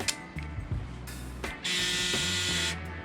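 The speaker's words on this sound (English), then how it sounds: "we're ready to shave again, baby" A Braun Series 7 electric shaver fitted with a new replacement head buzzes steadily up close, with a few brief starts and changes in pitch before settling into a louder continuous whine.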